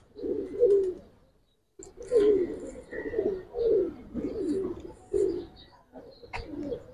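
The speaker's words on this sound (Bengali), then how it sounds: "এই রৌদ্রেও কবুতর ডাকে কি সুন্দর দেখেন" Giribaz pigeons coo in a steady series of low, throaty calls, about six rounded bursts close by, with a faint chirp or two in the background and no talking.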